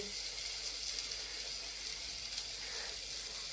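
Chopped onion and tomato sautéing in a pan for a banana-stem kootu, a steady faint sizzling hiss that runs evenly throughout with no talking over it.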